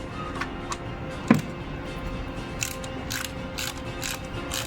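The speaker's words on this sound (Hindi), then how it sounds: "अभी ये कस लिया है गन से" An impact gun tightens the clutch mount bolts on a Hyundai Xcent during a clutch set replacement, giving a sharp burst followed by faint rattling mechanical clicks against steady workshop noise.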